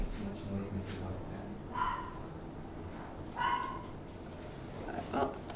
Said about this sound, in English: Someone's dog isn't happy.